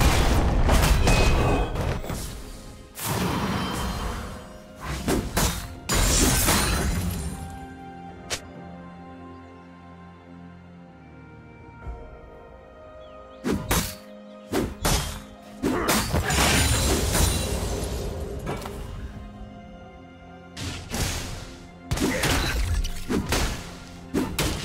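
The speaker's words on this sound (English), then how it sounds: "Team's turret has been destroyed." In League of Legends, a turret takes a pounding in repeated heavy crashes and shattering thuds that come in loud bursts with brief quieter gaps, ending with further impacts, and no speech is heard.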